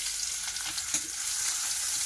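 Chopped onion fries in a pan for a rohu fish and potato curry, giving a steady, close crackling sizzle with one brief clatter near the middle.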